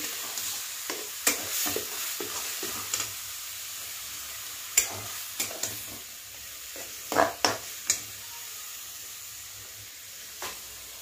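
Onion paste with garam masala sizzles softly in a pan while a spatula scrapes and taps now and then, the cooking quiet and close with no talking.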